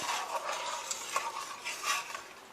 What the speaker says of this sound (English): Give that a nice little stir.